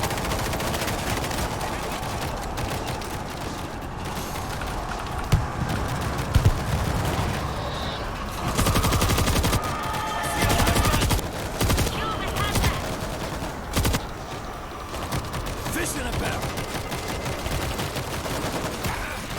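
Gunfire in the video game World War Z, a continuous rattle of automatic weapons in a busy battle, with heavier bursts punctuating the steady din and occasional voices mixed in.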